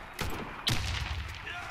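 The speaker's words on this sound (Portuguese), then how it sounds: "O cara correndo me deu dois tiros." Gunfire in the online shooter Warface, with two sharp shots about half a second apart, close and loud, followed by a brief rumbling tail.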